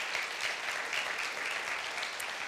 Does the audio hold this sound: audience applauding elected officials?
yes